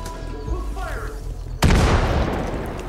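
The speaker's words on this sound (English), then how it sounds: "It's dynamite, my friend." A sudden loud dynamite blast in Far Cry 5 booms in at once and rolls into a long, rumbling debris tail after a stretch of quieter game ambience.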